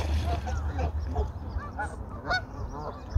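A Canada goose honks repeatedly among coots on a reservoir, the calls coming in short bursts over a busy, murmuring outdoor background.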